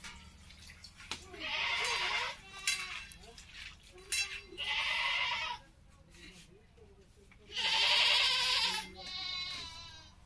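Several goats bleat in loud, drawn-out cries, three or four long calls with short pauses between, close by on a village farm, with a faint voice and quiet background noise in the gaps.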